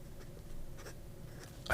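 A fountain pen with a medium cursive italic nib from a Joya Partenope scratches faintly across paper in soft, close, intermittent strokes, ending in a slightly louder scrape.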